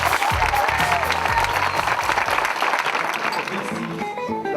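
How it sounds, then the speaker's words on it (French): Applause from the audience at the evening inauguration party for the Maisons Lacin showroom, sustained dense clapping for several seconds, with a voice speaking over it at the start. "On peut les applaudir plus fort que ça."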